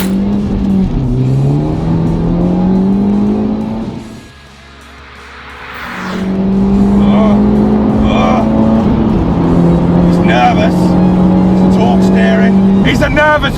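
An Abarth 595 Competizione revs hard through the gears from inside the cabin, its engine note climbing steadily, dipping briefly at a shift, then pulling strongly again, with a loud continuous drone throughout.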